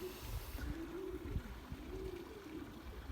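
Belgian racing pigeons coo softly around a loft as a flock of about fifty birds returns, a low repeated cooing over steady outdoor background noise with no talking.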